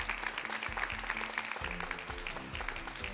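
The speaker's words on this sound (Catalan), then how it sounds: "Fem un aplaudiment per al Puig de Santa Maria i també per a vosaltres" Applause from an audience at a school quiz-show contest, a steady dense patter of many hands clapping that holds at an even level throughout, with a little voice mixed in.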